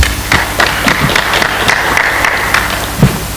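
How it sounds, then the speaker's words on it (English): Audience at a human rights and counter-terrorism conference clapping, a crowd's scattered hand claps with sharper individual slaps standing out, moderately loud and continuous. "Can you clap for yourselves?"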